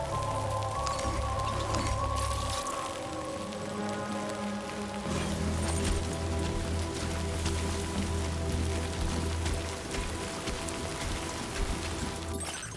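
Steady rain patters down in the video game Death Stranding 2, a dense continuous hiss over a layered background of game music and tones, with no speech.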